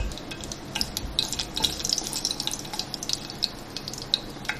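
Cardamom pods frying in a tablespoon of ghee, with a close crackly sizzle and small sharp pops and spits scattered irregularly over a soft bubbling hiss.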